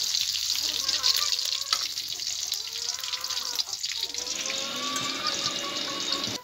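Eggs fry in hot oil in a pan, a steady close sizzle and crackle with faint scraping as they are lifted out.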